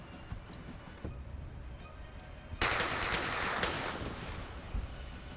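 Machine gun fire crackles in the video game The Troop, with scattered distant shots and then a sustained, louder burst lasting about a second before trailing off into isolated reports.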